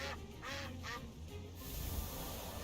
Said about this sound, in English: That's the Discord duck noise.